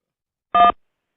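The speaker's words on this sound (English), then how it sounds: "To accept, press 1." A single short telephone keypad tone, pressed to accept an incoming call, sounds once as a clean electronic beep lasting about a quarter second, alone against silence.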